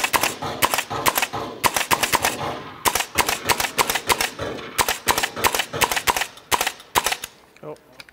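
Rapid simulated rifle fire from a VirTra firearms training simulator rings out in quick, loud bursts of sharp shots with short pauses between strings, ending as the rifle runs dry.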